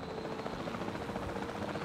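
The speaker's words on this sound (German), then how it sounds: "Lieber mit dem Helikopter." A helicopter in Jurassic World Evolution 2 drones steadily with a loud, continuous rotor chop and engine rumble, close and unbroken.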